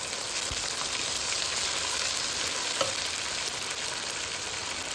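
Freshly pounded ginger garlic paste frying with browned onions for a shrimp pulao, a dense, even sizzle filling the whole moment with only a faint tap or two.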